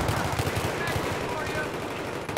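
Rapid bursts of Battlefield 3 gunfire crackle in quick succession during a team deathmatch on Operation Métro, dense and continuous over a noisy background.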